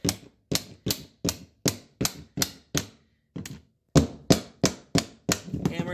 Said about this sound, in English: hammer it underneath, give it a lift